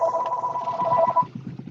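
A telephone rings during a township public meeting, a steady warbling electronic tone that runs for about a second before cutting off, followed by faint rustling and room noise.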